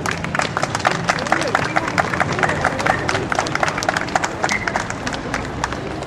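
A crowd claps at a civic ceremony honoring Andrés Avelino Cáceres in Lambayeque. The rhythmic hand claps are loud and fairly close, with crowd murmur and speech beneath.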